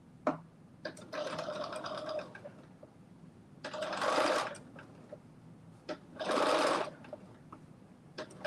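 A sewing machine understitches a garment pocket in three separate runs of steady whirring, each lasting about one to one and a half seconds, with quiet handling sounds between the bursts.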